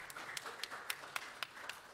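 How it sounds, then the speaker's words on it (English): Faint, sparse handclaps from a small group at a plenary session, a few claps spaced through a couple of seconds. "round of applause"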